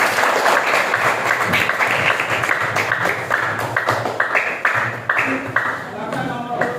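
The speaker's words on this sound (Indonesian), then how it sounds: "Berikan aplaus untuk kelompok 1." Group applause follows a student presentation at an Indonesian university session, a steady crowd clapping that fills the whole stretch, loud and close with the hand claps blurring into a continuous wash.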